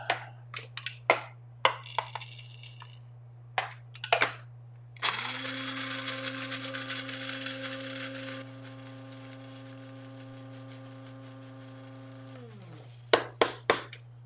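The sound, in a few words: grinding pepper with a pepper grinder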